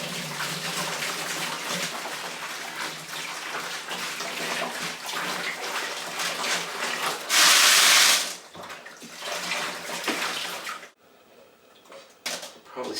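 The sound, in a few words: water rinsing rocks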